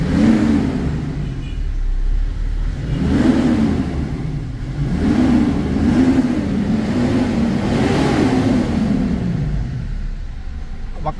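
A Mitsubishi 4M41 3.2-litre diesel engine with a low-power fault revs repeatedly under throttle, several rising and falling surges close and loud, with brief talk over it.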